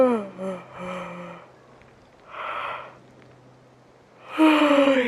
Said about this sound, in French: Vous faites comme si vous vouliez bailler.